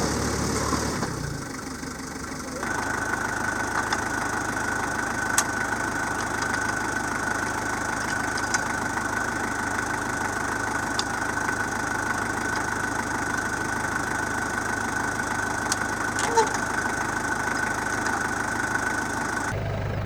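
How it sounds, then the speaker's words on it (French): A 4x4's engine idles with a steady, even rumble for a long stretch after starting up, close and constant with faint knocking, in Mongolia. "Bon allez, je coupe le moteur."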